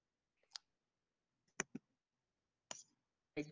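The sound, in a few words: keyboard typing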